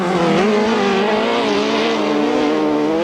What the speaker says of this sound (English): He knows he's got to keep that motor revving to stay in front of Bill Beecher.